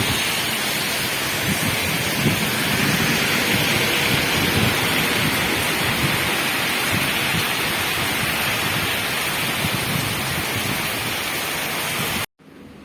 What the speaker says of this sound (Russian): дождь так и не прекратился